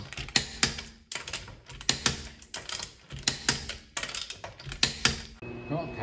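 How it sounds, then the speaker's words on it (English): A ratcheting torque wrench, set to about 80 foot-pounds, tightens lug nuts in a star pattern on a Subaru Legacy wheel during a brake and rotor job; rapid repeated clicking bursts sound close and loud in rhythmic groups. "you're gonna grab your torque wrench, set it to around 80 foot-pounds, and you're gonna go in a star pattern on your lug nuts"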